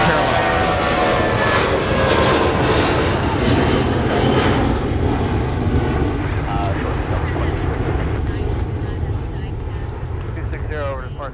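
Airbus A320 and A319 airliner engines at Minneapolis–Saint Paul airport roar steadily and loudly throughout, a broad continuous jet rumble that eases slightly near the end, with voices talking faintly underneath.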